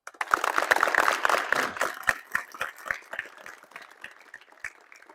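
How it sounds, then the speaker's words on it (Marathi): Students at a Zilla Parishad girls' school in Nilanga applaud their teachers. Dense crowd clapping starts loud, then thins into scattered, slower claps as it fades out. "आपल्या सर्व शिक्षकांसाठी आणि मॅडमसाठी जोरदार टाळ्या वाजवा एकदा."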